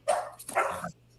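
A small dog lets out two quick yappy barks in the background, fairly faint and then falling quiet.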